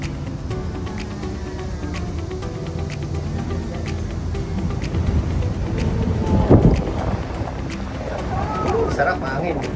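Wind rushing past a Ngong Ping cable car cabin above Lantau Island, Hong Kong, a steady moderate buffeting with people talking nearby and a brief louder gust midway.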